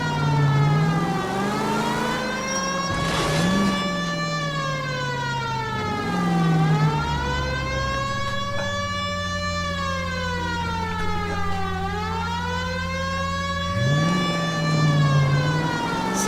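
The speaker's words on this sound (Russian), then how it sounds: "Зачем включать сирену, когда едешь на ограбление?" A police car siren in the video game L.A. Noire wails loud and continuous, rising and falling in long slow sweeps with a steady engine drone beneath.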